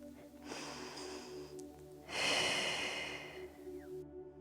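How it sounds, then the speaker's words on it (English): Soft breathing during a Pilates exercise: a slow inhale followed by a longer, louder exhale through the nose and mouth, close and quiet against a faint hum. "So we inhale and exhale"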